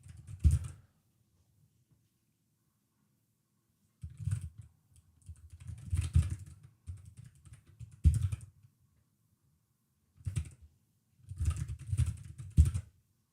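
Fingers type on a computer keyboard in soft bursts of rapid key clicks, broken by several pauses. No talking is heard.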